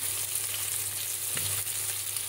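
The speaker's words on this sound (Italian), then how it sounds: "Perciò adesso lo porterò a rosolatura." Lamb belly browns in an old aluminium pot, a steady close sizzle and crackle of frying, with one brief stir or scrape partway through.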